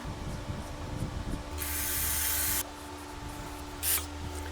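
Carburetor cleaner sprays onto the carburetor of a Honda CR500 motorcycle in two hissing bursts, a steady second-long spray followed by a brief short puff, over faint background hum and clicks.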